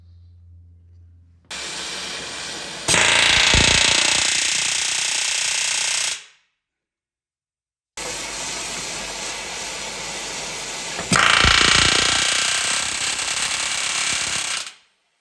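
Hot rivets being set in a cross member of a K10 truck frame: two long bursts of loud, rapid pneumatic hammering, each growing harsher partway through, separated by a short silence, close and without talk.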